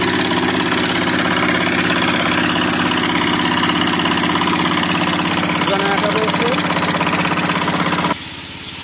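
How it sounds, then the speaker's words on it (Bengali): A generator set runs steadily to power a bag sewing machine for stitching geo bags, a loud continuous engine drone with rumbling low hum that drops off sharply near the end. "এখানে একটা জেনারেটার সেট করে নিছে জেনারেটারটা বিদ্যুৎ উৎপন্ন করতেছে"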